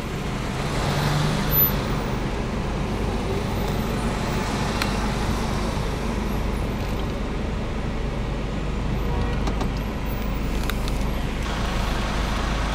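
Steady road traffic in a summer jam in Sevastopol, Crimea: a constant broadband rumble of idling and creeping cars, buses and trucks, nearby and continuous, with no talk over it.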